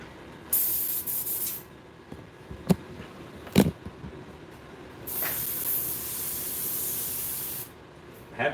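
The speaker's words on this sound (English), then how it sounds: "I think now it's going to be a job for the other airbrush." An airbrush sprays purplish brown paint in two sustained, steady hissing bursts separated by quiet gaps with a couple of sharp clicks, close and moderately loud.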